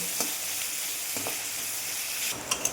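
Vegetables for vegetable chowmein frying in a pan over a low flame, a steady soft sizzle with a few light stirring scrapes, close and alone with no voices.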